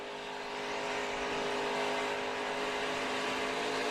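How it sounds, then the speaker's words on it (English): NASCAR Truck Series race truck engine at Dover, throttle working hard as the driver chases to pass, a loud continuous high-revving roar that swells and holds steady, close by with no talk. "We can hear how much work he has to do with the throttle."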